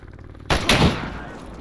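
A loud gun firing in S.T.A.L.K.E.R., two sharp blasts in quick succession, close and heavy, each trailing into a long echoing decay.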